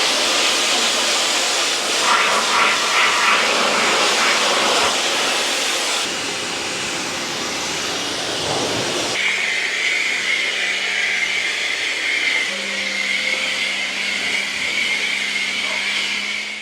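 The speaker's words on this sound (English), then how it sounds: "yeah, it'll definitely power an electric pressure washer" Electric pressure washer running from an EcoFlow Delta 3 Plus power station while washing a Jeep, giving a loud, continuous hissing spray with a motor whine; the pitch and texture shift partway through as the load changes, and a steady tone follows.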